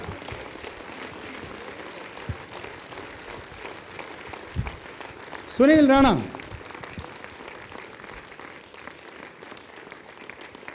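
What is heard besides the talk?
audience applause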